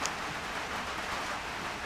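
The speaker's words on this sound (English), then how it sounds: "Sorry if you can't hear me because of the rain." Rain falls steadily outdoors while work is being done on a rebuilt Nissan Skyline, a soft continuous patter and hiss with a brief sharper tap at the start and no voices.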